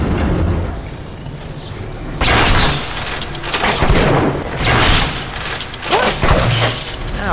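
Gunfire in the video game Bioshock comes as several loud, sharp bursts and booms with mechanical clatter, spaced through the stretch between quieter moments.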